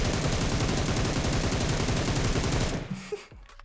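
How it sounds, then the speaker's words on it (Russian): Loud, rapid machine gun fire from the MG in PUBG Mobile's Metro Royale mode, a continuous burst of shots that cuts off near the end, followed by a few scattered clanks and a quiet tail. "МГшка классная пушка."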